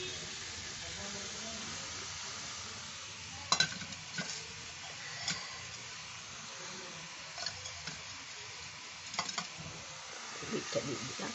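Beetroot being stirred into a frying pan for a vegetable egg devil, a soft steady sizzle with scattered scraping stir clicks of a spoon against the pan, fairly quiet.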